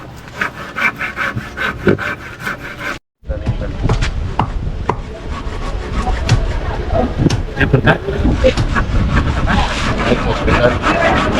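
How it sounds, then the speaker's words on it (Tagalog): Hand saw cutting through wood at a house construction site where concrete posts are being built, a steady rasping stroke rhythm running nearly throughout, loud and close, with a brief gap early on. "Si paring JB ay naglalagari."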